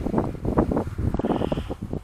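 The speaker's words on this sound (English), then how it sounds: "I've got a pretty good sized wind out here today" Strong wind blowing outdoors during a drone flight, a steady loud rushing buffet against the microphone with gusty swells and no voices.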